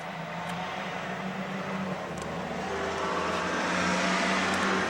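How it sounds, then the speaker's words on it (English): A steady low rumble of a heavy vehicle grows slightly louder toward the end, like a truck rolling past at moderate distance with no talking. "if the truck wasn't going by"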